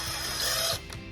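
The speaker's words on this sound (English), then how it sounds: "I'm gonna back them out a little bit." Power driver backing screws out of a raw MDF board, a short loud whirring mechanical burst that drops off after about a second, with no voices.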